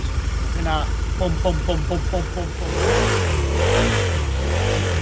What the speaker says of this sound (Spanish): Al candidato de Ciudadanos lo hemos visto en su moto, una Harley.